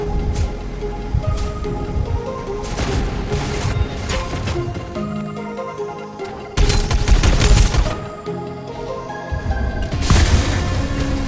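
Explosions in the Farlight 84 shooter game: a string of loud, close booms and blasts, with bursts of gunfire-like crackle and heavy impacts recurring several times over a busy combat background.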